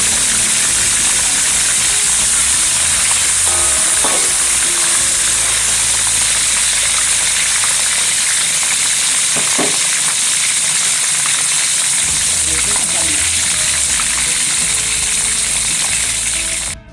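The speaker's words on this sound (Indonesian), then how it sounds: "terus ayam kita goreng." Chicken pieces fry in hot oil with a steady, loud sizzle and crackle that fills the whole stretch, cut briefly by a faint clink or two, with no talking.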